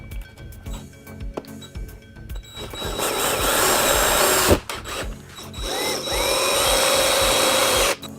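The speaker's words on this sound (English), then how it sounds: "Go ahead and run the screw in right there." A power drill drives a screw in with a steady whirring run that bogs and surges, stops briefly, then spins up again, loud and close with faint clinks of tools around it.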